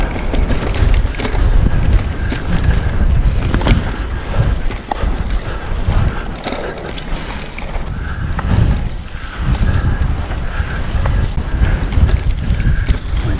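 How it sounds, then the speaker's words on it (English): Strong wind buffeting the microphone on an open moor at Danby Rigg and Glaisdale Moor, a loud continuous roaring rush with gusty swells and no speech. "I can feel that wind now."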